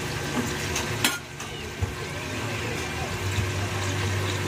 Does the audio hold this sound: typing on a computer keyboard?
no